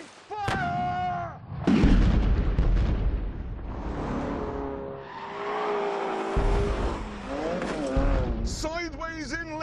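A car sliding sideways in a driving game, trailing tyre smoke, with loud continuous engine roar and squealing tyres, while excited voices shout over the noise.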